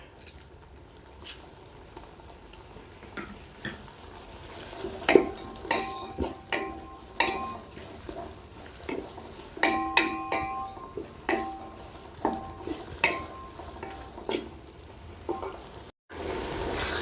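Tomatoes cook with salt in a pan for seeraga samba chicken biryani: a soft sizzle under repeated scraping and stirring of a spoon, with occasional metallic clinks against the pan.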